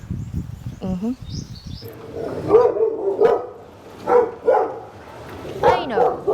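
Several dogs bark in short bursts at a moderate distance in Moalboal, Philippines, with people talking nearby and a bird chirping briefly.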